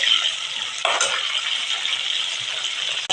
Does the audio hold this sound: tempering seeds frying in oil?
yes